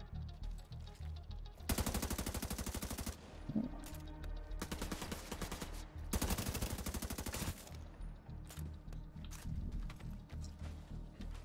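Rapid bursts of automatic gunfire from The Division 2 rattle loudly in several long volleys with short gaps between them, landing during a headshot, with no talk over them.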